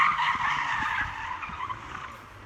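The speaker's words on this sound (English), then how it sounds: "I don't know if you can hear all that screeching in the background." Tyres screech from cars doing donuts round and round in a town car park, a sustained squealing wail heard from some distance, fairly loud and continuous, then easing slightly toward the end.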